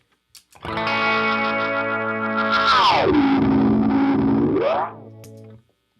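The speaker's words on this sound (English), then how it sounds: "After the freeze, I got it going into a Meleco Echo 616 delay, this red delay box" An electric guitar played through a red Meleco Echo 616 delay pedal rings out in a long sustained chord that dips in pitch and swoops back up, with a distorted, echoing tail fading over several seconds; no one talks.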